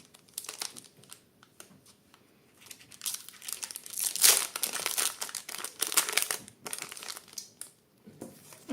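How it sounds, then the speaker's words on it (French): Foil wrapper of a Pokémon trading card booster pack being crinkled and torn open up close, a series of irregular crackling rips. "On a là un petit booster qu'on va ouvrir tout de suite."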